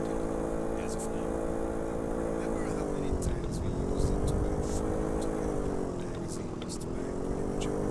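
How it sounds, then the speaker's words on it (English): A vehicle engine in the driving game The Long Drive revs high with a whiny, moped-like tone. It drones continuously, and its pitch rises and falls across the revs while a person talks over it. "Sounds more like a moped as well. It doesn't sound like a motorcycle. It goes really high. The RPM go high."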